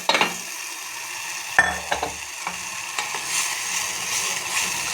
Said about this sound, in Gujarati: આ એક નાની વાટકી જેટલા મઠ પલાળ્યા હતા એ હવે આમાં નાખી